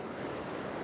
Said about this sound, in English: There's a couple of medium-sized waves happening right now.